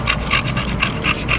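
A bully-breed dog pants close by in quick, steady rhythmic breaths, with no voices over it.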